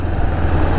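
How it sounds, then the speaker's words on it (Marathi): A mini tractor engine idles nearby on a green roadside, giving a loud, steady low chugging rumble with no voices. "Mini tractor."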